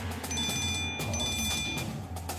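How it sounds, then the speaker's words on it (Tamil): Telephone ringing tone during a phone call in a Tamil TV serial, a steady electronic ring repeating in two pulses with a short break between, fairly loud and heard alone. "சுபத்ராவுக்கு ஃபோன் போடுவோம்."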